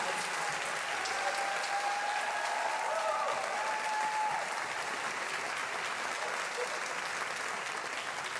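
Audience at a women-in-innovation speaker panel applauds the panelists, a steady, even wash of many hands clapping at moderate distance, with faint voices beneath.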